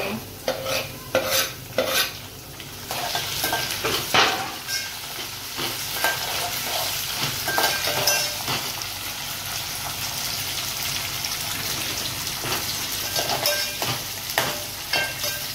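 Tomatoes tumble into softened frying onions and get stirred, an opening flurry of loud clattering scrapes giving way to a steady sizzle with occasional spoon knocks against the pan, heard up close.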